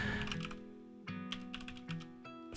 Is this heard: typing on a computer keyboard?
yes